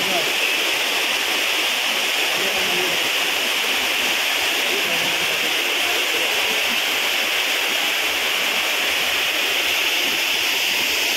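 Areekal waterfall in Pampakuda near Muvattupuzha, Kerala, roars as a constant, loud, close wash of falling water, an unbroken broadband rush for the whole stretch.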